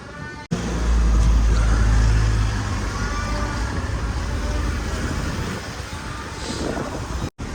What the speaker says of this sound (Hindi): गाड़ियाँ शाड़ियाँ आ रही हैं।